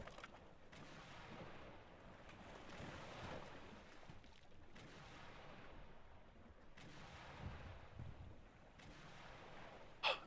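Wind and rough sea ambience from the pirate game Arrrrchemist, a quiet, continuous rushing wash that swells and fades in slow gusts, with a few soft thumps and no voices.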